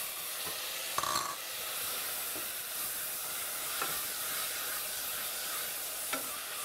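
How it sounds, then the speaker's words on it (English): Caramelized onion and chopped tomatoes sautéing in a pan, stirred with a wooden spatula: a steady close sizzle and hiss with a few scraping knocks from the spatula, and no talking. "Saute it, mix it, stir it in a mushing motion that you are just like I'm doing it with my wooden spatula."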